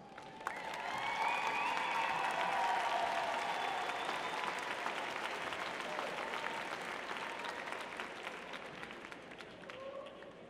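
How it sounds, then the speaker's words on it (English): Audience at a 2009 College of Education commencement applauds families and loved ones, sustained clapping from a large crowd swelling quickly, holding steady for about ten seconds, then slowly tapering, with some cheering voices mixed in. "give them a round of applause."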